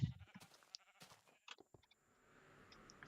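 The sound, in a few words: sheep bleating in the video game Minecraft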